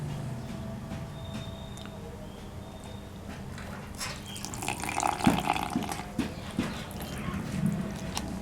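Water is poured into gulgule batter made with jaggery, a soft pouring and sloshing in a bowl over a steady kitchen hum, growing louder and splashier toward the end, with no talk.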